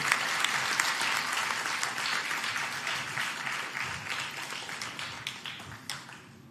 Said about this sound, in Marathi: आता जोरात टाळ्या होऊ दे.